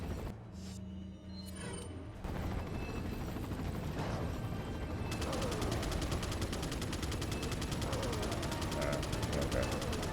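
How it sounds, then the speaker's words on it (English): Gunfire in a Resident Evil game crackles in a steady, dense stream of rapid shots. It runs continuously after a short quieter opening, with mechanical clatter mixed in. "Where are you shooting now?"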